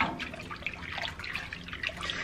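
A dye spoon stirs soapy dish-soap wash water for a raw Finn fleece, giving soft sloshing and trickling water sounds with small splashes and drips, close and quiet, with no talking.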